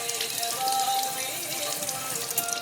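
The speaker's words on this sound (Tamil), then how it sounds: "நல்லா வாஷ் பண்ணு தண்ணியில்" Food being washed in water, with continuous splashing and trickling from a running tap or basin, close and moderately loud, and no talking over it.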